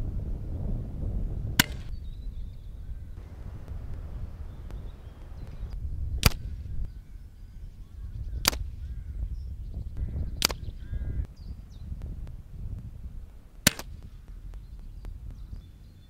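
Daystate Pulsar air rifle fired at targets, five sharp, loud shots spaced a few seconds apart over a steady low outdoor rumble.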